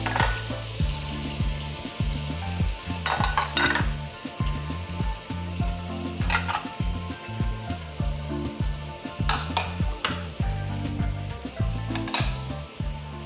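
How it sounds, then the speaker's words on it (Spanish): Chopped vegetables, garlic and seasonings fry in rendered beef fat in a pot for a beef stew, with a steady loud sizzle, occasional stirring and clinks of a utensil against the pan, and no talking. "En esa manteca vamos ahora a agregar todas las verduras."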